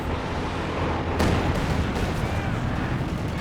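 Katyusha rocket artillery in the Company of Heroes 2 strategy game lets off a sharp launch burst amid a dense, rumbling battlefield din, with the roar trailing on under a constant layer of combat noise.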